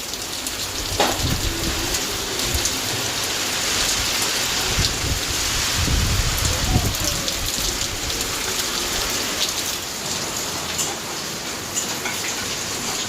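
Heavy rain falls in a continuous loud roar, with a faint rumble of thunder partway through and no talking.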